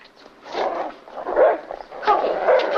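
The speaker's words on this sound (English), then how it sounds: "I haven't heard Corky bark in ages" A dog in a 1952 film noir scene barks in short bursts, several rough woofs and yips spaced irregularly, moderately close and clear against a quiet background.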